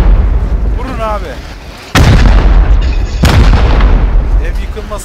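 A rocket launches and explodes in a video game, two heavy booming blasts with loud sustained rumble, mixed with excited voices talking over the action.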